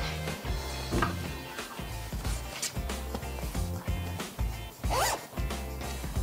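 Zipper on a quilted fabric toiletry bag being pulled open and closed in several quick, close rasping strokes, with rustling of the fabric handled between them.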